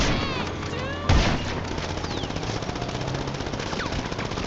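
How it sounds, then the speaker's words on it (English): Machine pistol fire in GTA on PC, a loud close burst of rapid shots followed by sustained automatic fire with a crash and whizzing effects mixed in. "show them how it looks like when you shoot a machine pistol at me"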